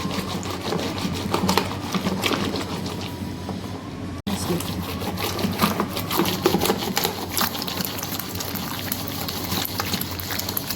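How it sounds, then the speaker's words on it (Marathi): Cream is churned into butter by hand with a traditional wooden churner, a busy rhythmic sloshing and knocking that runs continuously, with a brief break partway, under faint voices. "आता ह्याचं मी लोणी बनवून घेत आहे पारंपरिक पद्धतीने।"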